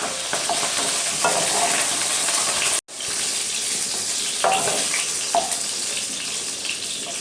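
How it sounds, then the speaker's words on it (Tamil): Brinjals frying in oil for a brinjal gravy, a loud, dense sizzle with stirring scrapes that cuts out abruptly for a moment and then resumes just as strongly, with no voices. "எண்ணெயில் நல்லா வறுத்துடலாம்"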